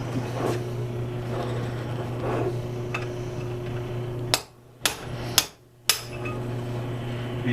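An early Little Giant mechanical power hammer, number 2,165, used for production knife forging, pounds in a few sharp, loud blows near the middle, with a steady low motor hum running throughout.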